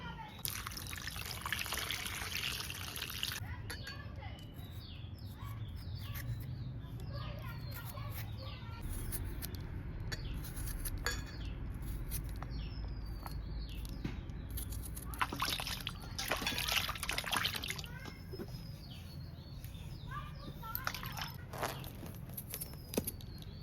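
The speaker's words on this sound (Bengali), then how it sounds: "প্রথমে এগুলোকে আমি কেটে ধুয়ে সুন্দর করে পরিষ্কার করে নেবো" Cut pieces of young bottle gourd being washed by hand in water, giving a steady run of trickling, sloshing and dripping sounds with scattered splashes, close and continuous throughout, with no one speaking.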